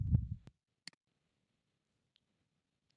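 A computer mouse clicks a few times, sharp isolated ticks spread across near-silence after a brief low bump at the start.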